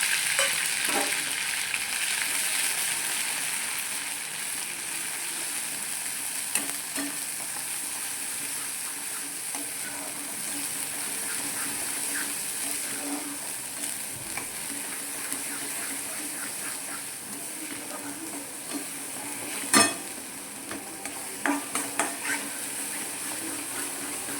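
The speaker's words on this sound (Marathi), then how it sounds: "झालं बघा, भाजलं बघा आपलं वाटण." Ground masala paste with garlic and cumin fries in a pan for a rajma curry, giving a continuous close sizzle with sporadic stirring scrapes and one louder clank near the end.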